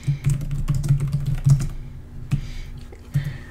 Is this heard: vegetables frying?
no